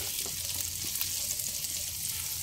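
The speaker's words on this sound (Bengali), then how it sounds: "কয়েক সেকেন্ড নেড়ে নিয়ে দিয়ে দেব 1 কাপ কুচিয়ে নেওয়া পেঁয়াজ।" Chopped onion, ginger and green chili fry on high flame, a steady close hiss of sizzling oil that runs unbroken throughout, with faint scraping of stirring underneath.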